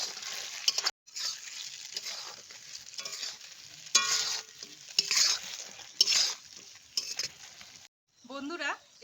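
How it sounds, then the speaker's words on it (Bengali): Fried cauliflower stir-fried in a pan for chilli cauliflower, with loud bursts of sizzling and scraping stirs in uneven spurts separated by short pauses; a voice is heard briefly at the end. "আমি ফুলকপিগুলো দিয়ে দু মিনিটের মতো নাড়াচাড়া করে নিলাম"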